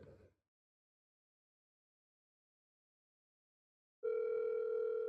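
A steady tone plays from a phone on speakerphone and starts abruptly after a few seconds of silence. It sounds like a dial or ringback tone, loud and continuous after a brief noise at the start.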